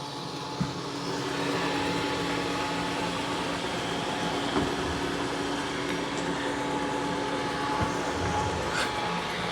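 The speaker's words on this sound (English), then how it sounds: "This is an excellent robot vacuum cleaner." A Roomba Max 705 robot vacuum mopping a floor gives a steady, moderately loud motor whir and hum with faint clicks and bumps, continuous and alone without speech.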